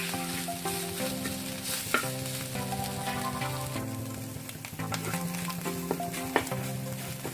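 Scrambled egg sizzles steadily in a pan while a spatula stirs and scrapes it, with occasional sharp clicks, over a steady background of music.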